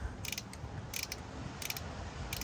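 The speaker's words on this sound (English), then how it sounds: "just keep ratcheting" A ratchet clicks in short bursts while snugging spark plugs on a 2013 Hyundai Sonata GLS 2.4L Theta II, four quick groups of bright clicks over a low steady background hum.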